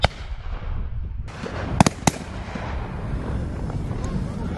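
Shotguns firing at driven partridge on an English shoot, a few sharp reports near the start and around the middle over outdoor wind noise, with a couple of shots close and loud and others more distant.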